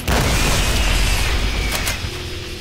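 A grenade blast in the video game Brutal Doom erupts loud and close as a single heavy boom, its deep rumble filling the moment and slowly tailing off.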